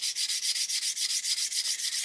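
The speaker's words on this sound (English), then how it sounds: "So what I'm going to do is just now lightly sand" A sanding stick lightly rubs a plastic part of an Airfix 1/72 Lancaster B.III Dambuster kit, about fourteen quick, even strokes in a steady rhythm, close and crisp with no talking.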